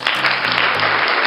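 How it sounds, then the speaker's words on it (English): Canned applause effect from a V8 soundcard, a short, loud, band-limited burst of crowd clapping with a faint tonal hum underneath. "applause."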